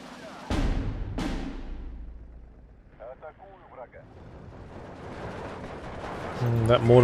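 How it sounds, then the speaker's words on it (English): Mortar fire from a World War II real-time strategy battle in Steel Division 2, heard as two sharp, loud blasts early on, followed by quieter distant rumbling, scattered crackles and a later swell of battle noise. "That mortar fire is a bit of a pain."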